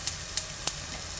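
Food sautés in a pan for rice-based maqluba cooking, a steady sizzling hiss broken by three quick, evenly spaced spatters or stirring clicks.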